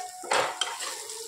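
Spices stirred into a pan of frying onion, ginger and garlic with chilli and turmeric, giving a brief clatter of a utensil against the pan over a soft sizzle, close and moderately loud.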